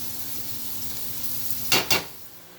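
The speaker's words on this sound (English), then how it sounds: "now we've got our onions going. You can see how it's that olive oil is doing its thing" Onions sizzle in olive oil in a pan, making a steady close hiss, followed by two short scraping stir strokes near the end.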